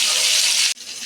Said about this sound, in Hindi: तो यहाँ इनको छौंक दिया है।